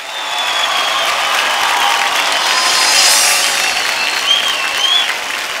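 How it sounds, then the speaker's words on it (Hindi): Sustained audience applause fills an awards-show hall, a dense, steady wash of many hands clapping with faint cheers, loud and continuous throughout with no talk over it. "एक बार जोरदार तालियां for the entire team of ludo"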